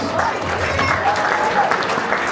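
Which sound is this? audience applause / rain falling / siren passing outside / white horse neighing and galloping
audience applause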